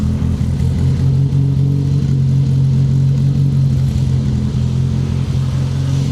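A classic car engine fitted with SU carburettors idles steadily and loudly up close, a constant low droning hum with an even, unbroken tone and no talk.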